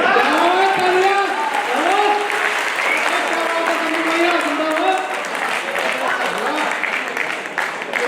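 Sustained audience applause at a Hindi comic poetry gathering (hasya kavi sammelan), steady and dense throughout, with a voice speaking over the clapping.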